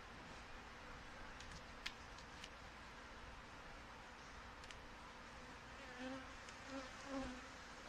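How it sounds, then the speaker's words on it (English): Honey bees hum and buzz around an open hive while frames of brood are inspected, a faint steady drone with individual bees whining close past now and then. "And there's a lot of bees in here."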